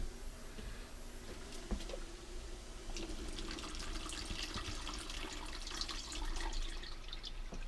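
Cold water runs steadily into a sous vide bath to cool it, a continuous splashing and gurgling pour, close and fairly loud, with a few clinks and drips along the way.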